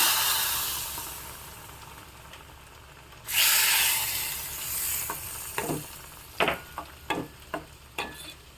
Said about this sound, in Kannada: ಸಾಸಿವೆ ಉದ್ದಿನಬೇಳೆ ಕೊಬ್ಬರಿ ಎಣ್ಣೆ ಮತ್ತು ಒಂದು ಒಗ್ಗರಣೆ ಮೆಣಸು ಇಂಗು ಹಾಕಿರೋ ಒಗ್ಗರಣೆ ಹಾಕ್ತಾ ಇದ್ದೀನಿ